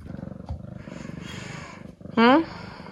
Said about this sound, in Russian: Пришла, сразу начала урчать.